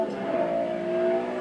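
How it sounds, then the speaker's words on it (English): A black 2012 Lexus LFA supercar engine revs with a steady rising tone, a smooth high-pitched mechanical whine heard briefly up close. "as its engine revs higher, there's a growing anticipation"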